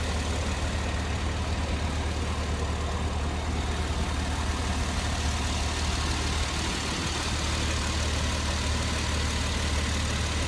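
A Porsche 911 Carrera, the last naturally aspirated version with a 3.4-liter flat-six and sport exhaust with quad tips, idles steadily with a low, even rumble throughout, no voices over it.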